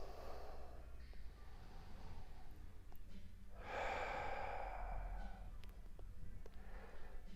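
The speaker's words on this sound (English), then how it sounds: "Starting to slow down your breath, lengthening your exhales." Slow, deep yoga breathing during a gentle flow class, with one long, airy exhale swelling up near the middle over a quiet room, softer breaths around it and no talking.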